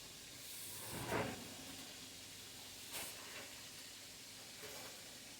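Cube steak frying in a pan gives off a steady, faint sizzling hiss, with a couple of brief louder crackling bursts rising over the constant spatter.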